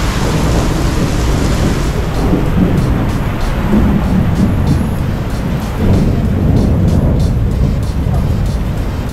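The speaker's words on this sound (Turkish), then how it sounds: "Fırtına çıktı." A heavy thunderstorm in Belgrade pours down as loud, dense rain with continuous low rumbling thunder, close and steady throughout without pause.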